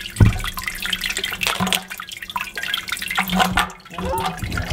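Liquid pours and trickles steadily as a homebrew rye IPA mash is lifted to drain, a continuous splashing wash with a thud at the start, and voices faintly audible underneath.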